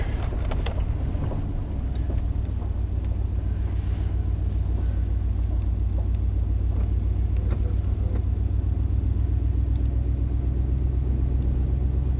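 A 1991 Chevy K1500 pickup engine idles steadily nearby, a loud, continuous low rumble with some wind buffeting the microphone and no voices.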